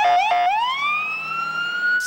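A wailing ambulance siren outside a hospital emergency room, loud and close, its pitch warbling briefly before sweeping up into a long rising wail with no voices over it.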